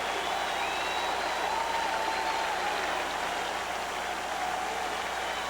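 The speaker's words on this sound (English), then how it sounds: "And listen to the crowd." A packed stadium crowd at a 1990 NFL preseason game between the Cincinnati Bengals and Tampa Bay Buccaneers roars in a dense, steady wash of cheering that holds at full loudness throughout.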